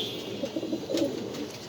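Budapest pigeons cooing on a pigeon farm, soft repeated low coos close by, steady and gentle with faint background hiss and no talk.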